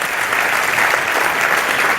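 A studio audience bursts into loud, dense applause that runs steadily from start to finish with no voices on top.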